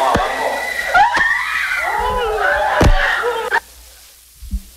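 A played-back recording of a scream heard in a basement: long, wavering shrieking tones over hollow, reverberant noise, with sharp knocks, then a sudden drop to near silence with a brief thump.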